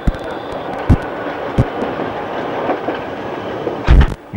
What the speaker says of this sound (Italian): Il treno riduce la velocità per la deviata.